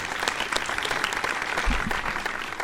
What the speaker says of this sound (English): Let's give them a nice round of applause for being here.